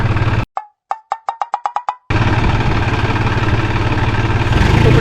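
A New Holland 4710 Excel 4WD tractor fitted with a rotavator: a rapid run of sharp clicks in near silence gives way to the loud, steady roar of the tractor engine under load, close by.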